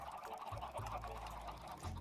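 Chickens cluck in a Minecraft superflat survival world as a crowded flock pushes together, a steady low murmur of fowl noises at close range with no talking over it.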